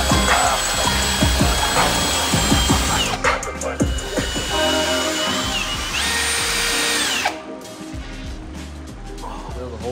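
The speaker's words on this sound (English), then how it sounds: "Drill the holes out." A power drill bores holes in the new floor pan of a Karmann Ghia, with steady whining runs that stop and restart, bursts of pitch change, and clanks and ratcheting of tools nearby.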